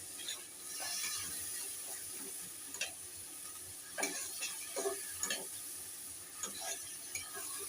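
A spoon stirs and scrapes through katla fish curry after turmeric powder and a little sugar go in, giving quiet rhythmic scraping taps over a faint sizzle, close but soft, with no voices.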